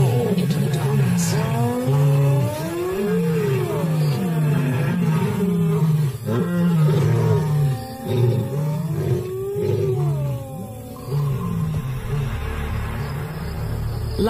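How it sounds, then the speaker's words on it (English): Lions and hyenas roar into the African night, deep drawn-out calls and rising whoops repeating over a constant loud backdrop, several animals overlapping close by. "Night after night, the hyenas and the cats roar into the darkness."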